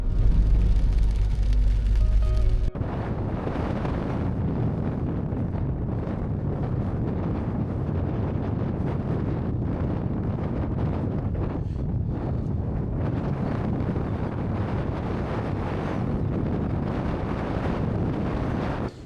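Strong wind in Death Valley roars steadily and buffets the microphone, a constant rushing noise with no other clear sounds.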